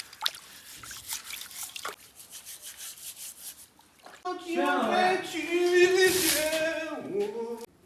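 Food is washed under running water in a home kitchen while red-braised pork is being prepared. Faint rubbing comes first, then a steady splash and trickle of tap water, with a voice heard at the start.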